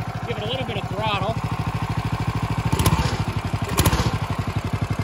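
A go kart engine revs under throttle with its chain drive fitted, a steady close mechanical chug with rapid regular pulses that swells twice in louder bursts, while someone talks briefly near the start.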